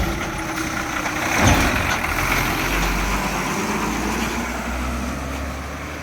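A KSRTC bus climbs over a forest bridge on its way from Konni toward Kottampara, its heavy diesel engine rumbling steadily and close, with a louder swell of road noise about a second and a half in.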